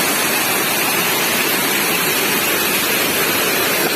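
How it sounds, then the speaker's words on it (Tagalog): Strong, cold spring water in Laurel, Batangas gives a loud, close, unbroken rushing hiss that fills the whole stretch without pause. "Lakas ng tubig, oh."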